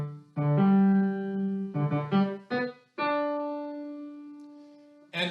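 Wagner's Rhinegold motif from the Ring cycle, the gold lying in the River Rhine, played as a short melodic phrase of several sustained tones with a long held final note, clear and moderately loud, with no voices.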